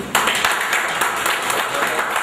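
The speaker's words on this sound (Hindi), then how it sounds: "उनके लिए एक बार जोरदार तालियां बजाएं" Loud applause from a seated audience at a gathering in Allahabad, dense clapping that starts abruptly and holds steady near the microphone throughout.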